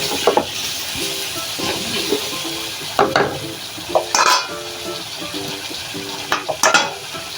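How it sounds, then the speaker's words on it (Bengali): Vegetables in ginger paste sauté in a pan with a splash of water, giving a close, steady sizzle and hiss broken by repeated scraping stirs and spatula knocks on the pan. "সবজিটা কষানোর জন্য একটু পানি ব্যবহার করলাম।"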